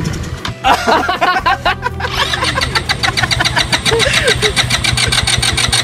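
An old car with a stubborn engine cranks and then fires up, stuttering into a rough, loud idle with a rhythmic chug, while someone talks briefly over it close by.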